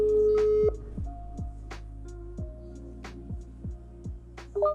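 A telephone ringing tone while placing a call, with steady repeated electronic tones and a few faint clicks, clear and close with no talking.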